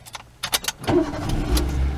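A car engine is cranked with the key and catches, followed by a steady low idle rumble, close by and alone after a few clicks and rattles of the key.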